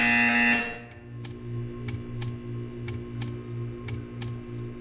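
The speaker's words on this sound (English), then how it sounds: "Hear the buzzer." Portal 2 buzzer: a loud tone opens, then a steady low pulsing buzz repeats in an even rhythm, with sharp ticking clicks at regular intervals over it.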